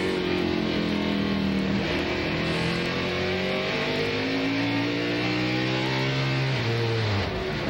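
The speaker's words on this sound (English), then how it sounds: "sounds like something desperate happened inside that engine" NASCAR Winston Cup stock car with a blown engine at Martinsville Speedway, rough and loud, with a strained, uneven drone whose pitch wavers and sags over several seconds before cutting off.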